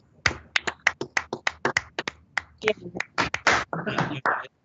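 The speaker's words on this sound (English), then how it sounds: "A big round of applause, please, Commissioner and our friend Tom Harrison." A handful of people clap at a small remote retirement celebration, a sparse run of about twenty crisp, close claps with uneven spacing that ends abruptly.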